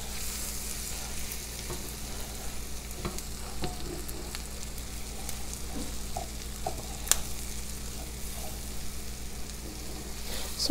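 Jambalaya ingredients for an authentic Louisiana recipe sizzle steadily in a pot, with scattered sharp pops breaking through a constant frying hiss; no voices are heard.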